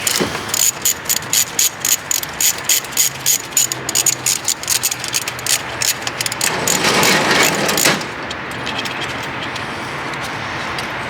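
A ratchet wrench clicks in quick repeated strokes while bolts and a washer come off a car wheel during a wheel swap, close and loud, ending in a longer mechanical whir and steady hum.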